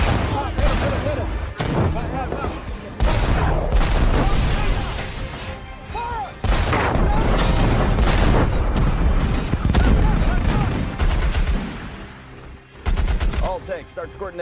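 A loud battle scene with repeated heavy tank cannon blasts and bursts of gunfire, dense booming impacts and crashes, and shouted voices mixed in between the shots.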